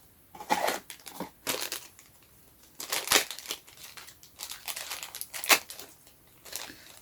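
A small plastic bag with dotted tear lines is torn open and crinkled, producing repeated bursts of crackly rustling and crumpling with short pauses between them, close up and with no talking.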